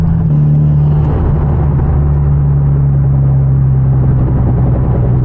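Hyundai Genesis Coupe with a stock exhaust burbling on a night drive, a loud, steady low engine drone heard from inside the car, with no voices over it.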